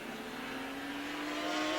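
A 1984 racing superbike accelerates on track, its engine note a steady rising whine that holds for under two seconds, moderately loud and slightly distant with no voices over it.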